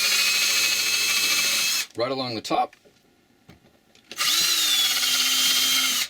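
A handheld power drill bores screw holes along the top, sides and bottom of a panel, whining loudly in two bursts either side of a short spoken phrase and a quiet pause.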